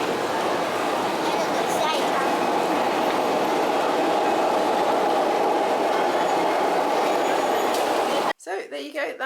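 A Disney monorail train passes close by, a loud sustained rumble and whine with rhythmic clatter that cuts off abruptly near the end, leaving faint talk.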